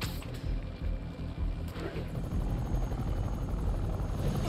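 A helicopter in Marvel's Spider-Man thrums steadily, loud and close, its rotor chop pulsing without a break.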